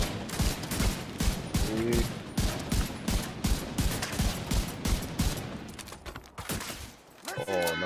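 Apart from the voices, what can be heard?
rifle shots fired at an animal in a hunting video game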